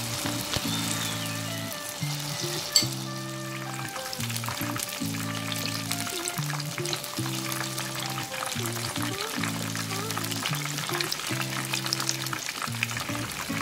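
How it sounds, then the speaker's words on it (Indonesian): Cassava leaf balls coated in flour batter frying in hot oil, a steady close sizzle and crackle throughout with a sharp clink near the start and no voices. "masukkan bola-bola daun singkong ke dalam adonan tepung dan goreng sampai matang dan warnanya sedikit kecoklatan"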